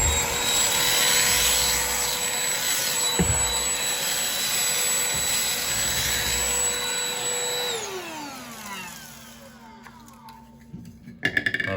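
A Shark UltraCyclone Pet Pro Plus CH951 cordless handheld vacuum sucks up rice, its steady whining roar broken by occasional rattles. Near the end the motor spins down and the pitch falls.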